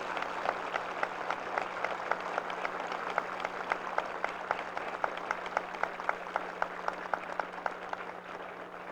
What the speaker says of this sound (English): how about a round of applause for our newest military training instructors?